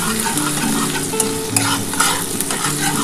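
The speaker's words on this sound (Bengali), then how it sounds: "একটুখানি ভাজা ভাজা করে দিই" A ground paste of onion, ginger, garlic and tomato fries in a pan for an egg poach curry, with a steady close sizzle broken by scraping stirs of a spatula.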